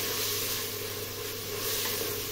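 Garlic frying in a pan with oil for a home-style beef and fresh shelling bean stew, giving a steady, close, even hiss with no break and no voices.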